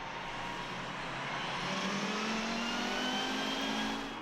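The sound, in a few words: race cars at Monza, Lamera Cup 2014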